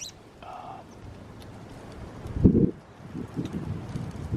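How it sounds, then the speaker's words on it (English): Gusty wind buffets the microphone in low rumbling swells at a tree deer stand in Oklahoma, with rustling and a few faint chirps in the background. "It's windy today, really windy, shaking us in the tree windy"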